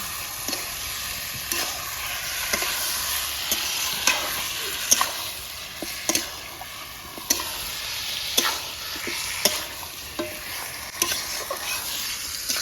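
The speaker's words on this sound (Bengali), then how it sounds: "চিকেনটাকে ভালো করে গ্রেভির সঙ্গে কষে নিতে হবে" Chicken stir-fried in a tomato gravy keeps up a steady sizzle close by, with a spatula scraping and tapping the pan at a regular pace throughout.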